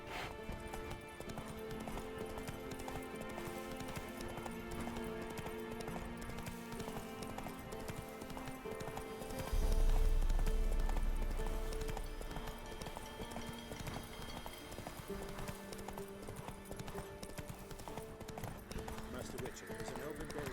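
Roach, the horse in the video game The Witcher 3: Wild Hunt, gallops in a continuous rhythmic clip-clop under game music, with a low rumbling swell midway.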